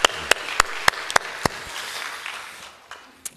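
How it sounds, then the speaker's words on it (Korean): Church congregation giving applause of encouragement during a sermon, a wash of many clapping hands with sharp louder claps standing out, tapering off over a few seconds. "한번 우리 격려의 박수 보내도록 하겠습니다."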